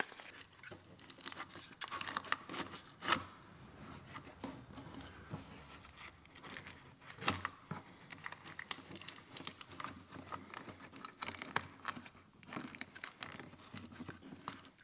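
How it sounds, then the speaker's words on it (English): Adhesive backing peeled off and tape wrapped around an oversized IMS gas tank on a KTM SX 85 motorcycle, quiet close crinkling, tearing and sticky crackles in irregular bursts. "you just peel the sticky off the back, and we can tape it right to itself"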